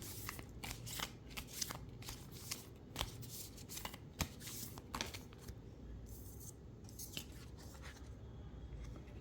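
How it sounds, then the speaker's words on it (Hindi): Tarot cards are shuffled in repeated crisp riffles and flicks, close and quiet, with no voices. "You can fast forward the shuffling part."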